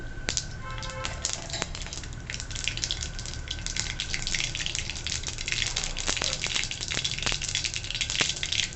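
Mustard seeds popping and spluttering in a small amount of hot oil for a ridged gourd curry, a dense crackle of sharp pops and sizzle that builds slightly over several seconds.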